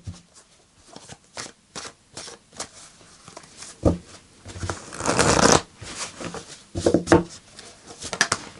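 Tarot cards are shuffled and pulled by hand in a series of soft, close riffles and slides, with a longer, denser shuffle burst in the middle and quieter card flicks on either side.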